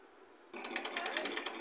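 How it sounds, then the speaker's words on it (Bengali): A sewing machine starts up after a quiet moment and runs steadily, stitching a cloth cover cut from a torn bed sheet, its rapid mechanical chatter close and fairly loud. "মেশিনে সেলাই করে নিচ্ছি আস্তে আস্তে।"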